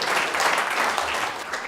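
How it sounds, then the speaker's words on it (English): Audience clapping for a speaker at a conference, a full, steady burst of applause from the room, loud and continuous for a moment with no voices over it. "thanks again, Bert, for this incredible story. With a round of applause"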